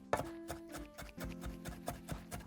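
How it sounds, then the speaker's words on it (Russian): A knife finely chopping parsley on a board, a quick run of about a dozen sharp, close taps in a steady rhythm, with no talking. "Петрушку мелко порубить"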